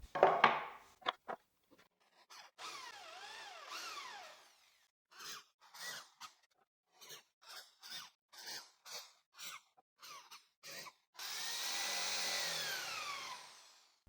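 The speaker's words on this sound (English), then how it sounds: "The holes were made using a 3mm drill bit." A drill with a 3mm bit bores holes in wood in a series of short whirring bursts separated by pauses, ending in one longer, louder run. The sound is close and fairly quiet.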